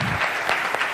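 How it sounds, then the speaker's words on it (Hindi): Loud applause fills a hall at a business gathering, a thick, close roar of many clapping hands sustained without a break for the whole second. "हमारे महागुरु के लिए जोरदार तालियां होनी चाहिए दोस्तों।"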